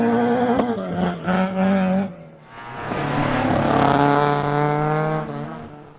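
Rally cars, including a Ford Escort and a Honda Civic, race at Aghadowey: a close, loud engine revs through gear changes, then another car's engine rises and swells to a roaring peak before fading.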